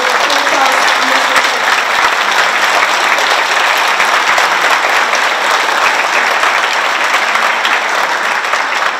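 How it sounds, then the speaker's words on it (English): Steady, loud audience applause at an orchestra concert, a full hall clapping continuously without letup, some voices faintly mixed in. "Please join me to give a round of applause."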